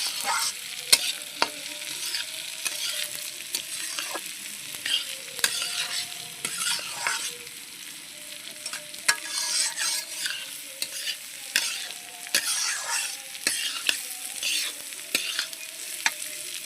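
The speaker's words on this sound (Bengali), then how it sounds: "প্রথমে আমি দিয়ে দেবো ডালটা।" Dal lentils sizzling and frying in hot oil for khichuri, a steady crackling hiss broken by repeated scrapes and clinks of a stirring spoon against the pan, close up and with no voices.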